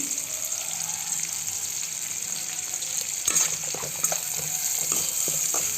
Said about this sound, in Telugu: కరివేపాకు వేసుకొని కొద్దిగా బాగా ఫ్రై చేసేసుకుందాం.